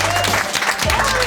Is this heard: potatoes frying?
no